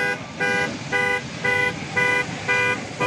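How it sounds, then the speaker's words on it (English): A loud car horn sounds in a steady rhythmic pattern, six or seven evenly spaced honks about half a second apart, with background noise in the gaps, heard outdoors at an airport plane-spotting location. "A loud honk."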